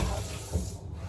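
Tap water runs steadily into a cooking pot for egg noodles, a close, continuous splashing rush that thins out briefly near the end.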